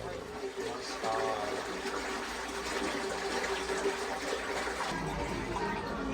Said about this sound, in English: Water is slowly coming inside now.